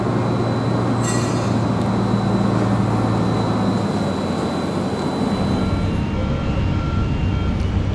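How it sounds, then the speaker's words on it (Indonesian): Container freight train passing through a port area: a continuous loud rolling rumble of wheels on rail with a faint squeal, easing off toward the end, with no voices. "Ini ada kereta"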